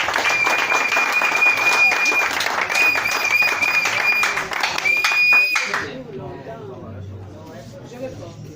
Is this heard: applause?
yes